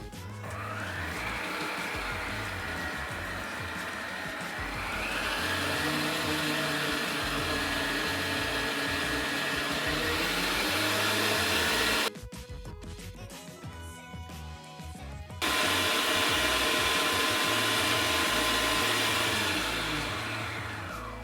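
An electric mixer whirs steadily as it beats carrot cake cookie batter until fluffy, a loud continuous motor drone that drops away briefly partway through and then resumes.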